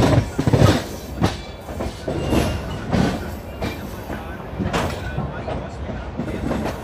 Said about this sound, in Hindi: नाथ नगरी बरेली अपनी ट्रेन पहुंच चुकी है दोस्तों।